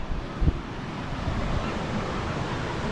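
Sea surf and gusting wind on the coast at Sidi Ifni, a steady broad roar of waves with wind buffeting the microphone throughout, no voices.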